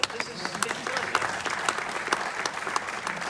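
A crowd at the Cinecon Classic Film Festival applauds, with close, crisp individual claps rising out of a steady bed of clapping for about three seconds.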